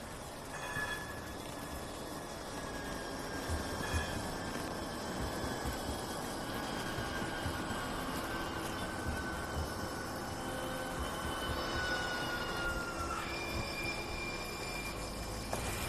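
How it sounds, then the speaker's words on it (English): A train rolls past at a distance, a steady rumble with squealing, drawn-out metallic wheel tones rising and fading over about sixteen seconds, with no talk. "As soon as this train goes past,"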